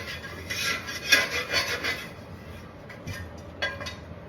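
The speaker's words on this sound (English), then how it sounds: "So I'm scraping her off, but I want a little bit of that oil from the sausage to stay in there" A utensil scrapes sausage oil residue from a pan in a few short rasping strokes with light metallic clinks, fairly quiet and close, then pauses before a final scrape.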